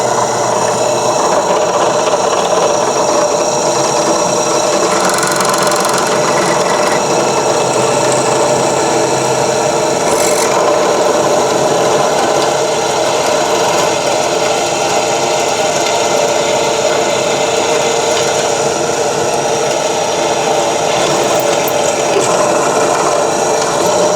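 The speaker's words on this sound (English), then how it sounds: "let's drill this and see what happens" A steady, loud grinding rasp of a drill press working through a metal pipe of a shepherd's hook, continuous for the whole stretch with no voices.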